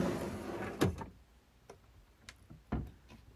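A drawer in the kitchen of a Hymer S700 motorhome slides open with a short thud near the start, followed by a few faint clicks and a second knock later on, close and without any voices.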